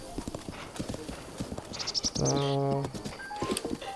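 Hooves of a galloping horse in the video game Zelda: Breath of the Wild pound in a quick rhythmic clip-clop, close and clear, with a short whinny in the middle and a voice talking lightly alongside.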